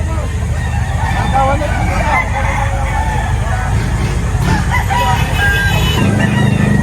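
Roosters crow and chickens cluck at a busy poultry market in Lipa, Batangas, where SBR chickens are sold; several birds call amid steady crowd noise and passing traffic, with people talking throughout.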